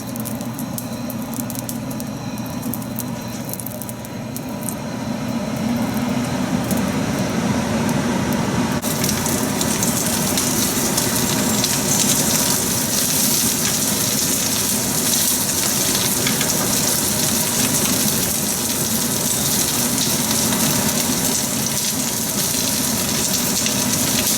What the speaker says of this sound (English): We'll quickly fry the prawns on one side and then turn it over and cook it on the other side